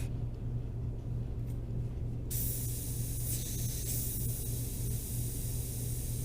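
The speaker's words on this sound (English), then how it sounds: "Red buildings up here need a little bit of love, a little bit of airbrushing love." Airbrush hisses as it sprays paint onto the red buildings of a tiny painting of Tokyo, starting partway in as a steady close airy spray over a constant low hum, alone without talk.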